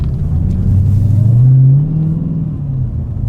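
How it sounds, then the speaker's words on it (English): Dodge Challenger Hellcat fitted with a Corsa cold air intake revving hard, a loud, close, deep engine roar that swells and holds before easing back. "Like the Corsa cold air intake is crazy loud."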